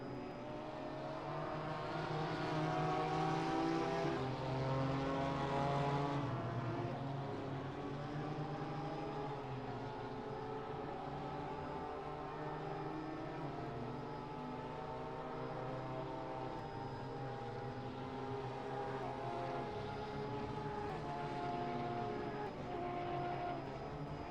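A camera helicopter flies over Laguna Seca race track during a 2024 multi-class vintage racing round, giving a loud, steady, harmonic engine drone that holds for the whole stretch.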